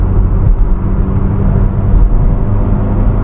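A Maruti Suzuki Baleno accelerates through its gears, giving a steady, loud engine drone and road rumble with little change across the short stretch.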